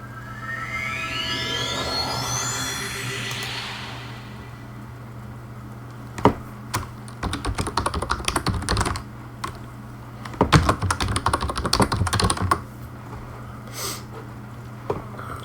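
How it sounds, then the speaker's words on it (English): Computer keyboard typing in loud, irregular bursts of rapid clicks, picked up close by a microphone on a tripod, with a tonal game sound sweeping upward at the start. "if you are hearing the keyboard very, very loudly"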